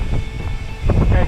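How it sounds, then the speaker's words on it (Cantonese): Strong gusts buffet the microphone while cycling around the Mount Aso crater rim in Kumamoto in rough weather, giving a continuous low rumble that swells and surges louder toward the end. "太大風啦！"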